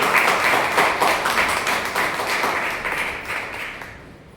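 A crowd at a Shiv Jayanti speech event claps vigorously, a dense burst of applause that starts loud and gradually fades over a few seconds.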